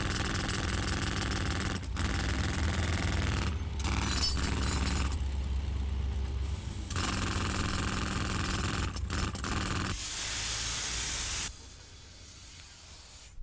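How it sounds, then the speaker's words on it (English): Pneumatic riveters hammer rivets in loud, rapid, continuous bursts, broken by a few short pauses and shifts in tone, with no voices. "riveters"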